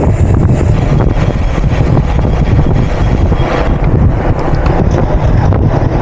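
Strong seaside wind buffets a cyclist riding along a sunny coastal road, a loud, constant roaring rush with gusty rumble throughout and no talk.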